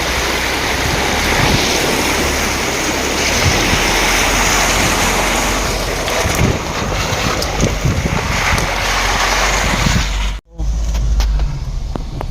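Steady, dense rain hisses loudly and evenly in Sivakasi, mixed with a rushing, wind-like roar, continuing without pause.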